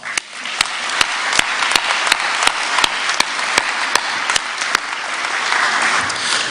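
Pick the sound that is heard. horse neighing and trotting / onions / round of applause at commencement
round of applause at commencement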